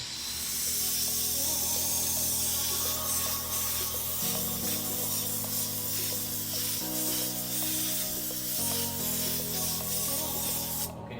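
A tack cloth is rubbed over the primed A-pillar of a Tesla Model 3 with a soft, continuous wiping hiss, while steady music plays underneath.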